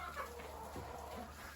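Backyard homestead chickens clucking softly in freezing winter cold, a few low, close murmuring clucks over a steady background hum.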